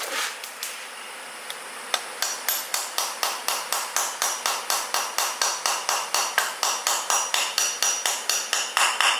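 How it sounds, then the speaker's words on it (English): A hammer drives pins into a six-piston Brembo brake caliper during a big-brake conversion on an Escalade, Tahoe or Yukon, starting with a few scattered taps and then settling into a steady run of about thirty sharp, ringing metallic strikes, close and clear. "now you're going to hammer those pins in"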